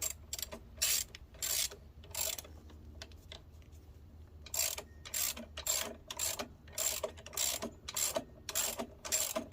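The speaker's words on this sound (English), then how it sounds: "we're just gonna get our wrench switched over. I'm not gonna completely tighten this down." A wrench snugs a frame slider bolt on a Yamaha FZ1 motorcycle, ratcheting in quick, close clicking bursts. Short groups of crisp clicks are separated by brief pauses, with a quieter gap in the middle.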